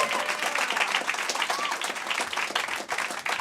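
A live audience in a lounge session claps after a song in continuous, dense applause that sounds fairly close and steady, with a few scattered voices mixed in.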